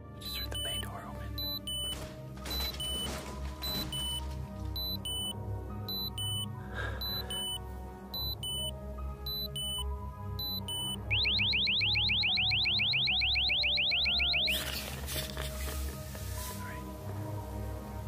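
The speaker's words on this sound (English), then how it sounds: "the alarm for the van's rear bay door is triggered by motion" A van's rear bay door alarm set off by motion, sounding as a rapid rising electronic beep pattern over steady background noise and music-like tones, loud and near for a few seconds.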